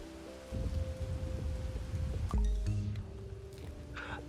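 Steady rain patters across a scene in the video game Bugsnax, a continuous wash of falling drops beneath a low game music drone, swelling briefly midway with no talk.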